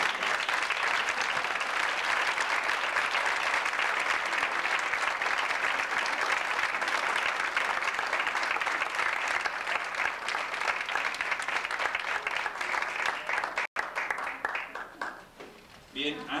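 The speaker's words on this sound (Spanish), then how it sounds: "solicitar a todos los compañeros un aplauso" Sustained, dense applause from an audience at an architecture talk, steady and loud for about thirteen seconds before tapering off near the end.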